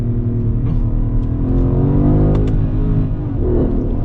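A Mercedes ML63 AMG engine hums loud and close as the SUV downshifts from second to first, a continuous low throaty drone with a slight swell in revs midway and no talking.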